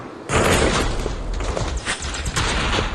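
Dense, continuous gunfire from a pistol in the VR shooter Aim:xr, a steady barrage of overlapping shots with no clear gaps between them, loud and close throughout.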